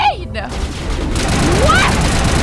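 Gunfire in the Mass Effect video game, a sustained loud clatter of shots filling the scene right after a brief voice, with a rising whine cutting through the barrage.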